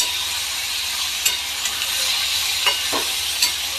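Four green chillies frying in oil in a pan while being stirred for a fish curry: a steady loud sizzle with occasional soft scrapes and clicks of the spoon, with no talking.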